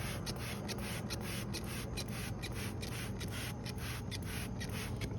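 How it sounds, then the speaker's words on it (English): Cleaner hisses in rapid, evenly spaced spray bursts onto a reusable K&N air filter, a close, steady pumping rhythm of short airy sprays with no talking. "So we're going to spray this down good"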